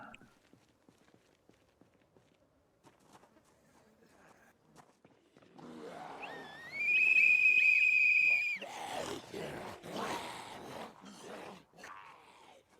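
In Project Zomboid, a blown whistle gives a loud, sustained shrill tone with a slight upward bend. It lasts about three seconds and stands out against faint footsteps and quiet background noise.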